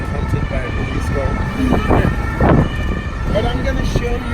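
A police car siren wails through a Paris street, rising and falling in loud sweeps over steady city traffic noise, with some talking in the background.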